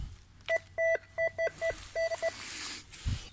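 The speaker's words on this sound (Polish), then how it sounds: "W tej brójdzie chyba jest moneta, bo sygnał jest na monetę." A metal detector gives a coin signal over a field: a run of short, steady, repeated electronic beeps in an uneven stuttering rhythm, clear and close, followed by a low thump.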